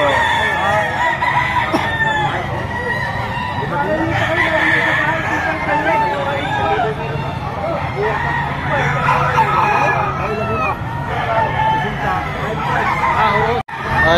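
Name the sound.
rooster crowing, a bulik-coloured gamefowl for sale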